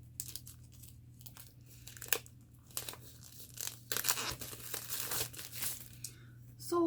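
Mail packaging being handled and cut open with scissors, crinkly rustling and tearing bursts in irregular bunches over a low steady hum, close and moderately quiet.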